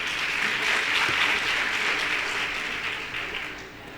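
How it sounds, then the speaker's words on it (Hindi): Audience applause welcoming the chief medical officer at a Babasaheb Ambedkar Jayanti function: dense, steady clapping from a crowd that fills the whole stretch, then eases off slightly toward the end. "आप सभी तालियां बजाकर उनका स्वागत करें"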